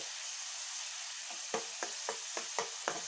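Masala sizzles steadily in hot oil for a gravy, a constant hiss with a run of sharp spatula scrapes and taps against the pan every fraction of a second in the second half, close and with no talking.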